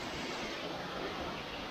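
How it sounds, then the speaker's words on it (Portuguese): Chica Dona waterfall near Itabirito in Minas Gerais, a steady broadband rush of falling water close by, continuous and even throughout with no voices. "Cachoeira toda para vocês."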